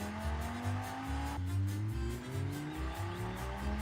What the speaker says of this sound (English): I also think you can change the sound of the motors